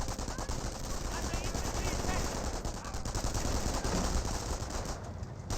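Sustained MP40 submachine gun fire in a Company of Heroes battle, rapid continuous bursts crackling densely throughout at moderate loudness, mixed with other distant battlefield gunfire and no clear talk.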